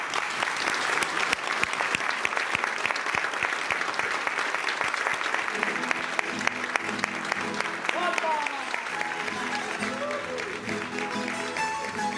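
Strong, continuous applause from an audience welcoming a guest jota singer on stage, dense clapping throughout with musical accompaniment entering partway through.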